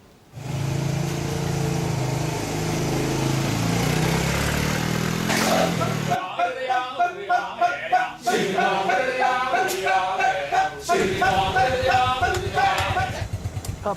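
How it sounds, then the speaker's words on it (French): A motorcycle tours around Bali; a steady, loud engine drone fills the first six seconds, then gives way to a choppier, pulsing mix of other sounds. "le tour de l'île à moto"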